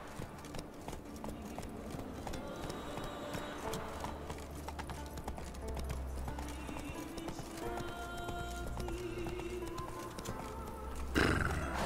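Roach the horse clip-clops along in The Witcher 3 video game, with a steady rhythm of hooves walking over a continuous ambient game soundscape and an occasional soft whinny.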